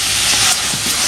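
A pot of fish curry comes to a boil, giving off a steady, loud hiss and sizzle with faint bubbling underneath.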